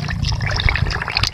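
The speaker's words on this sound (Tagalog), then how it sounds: "Sige lang dugang ang tubig." Water pours and splashes steadily into a tilapia tank, a close, continuous gurgling rush of liquid.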